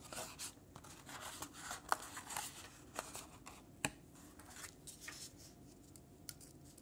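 Scissors snip out paper pieces for a sparkly Celtic triquetra knot embellishment: quiet, irregular close-up cuts and crisp paper rustles with small pauses between them, and no voice.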